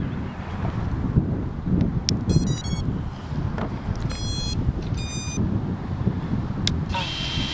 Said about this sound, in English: it's actually a little bit windy today